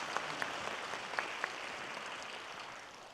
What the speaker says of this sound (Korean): 박수 한번 쳐주시면 좋겠습니다.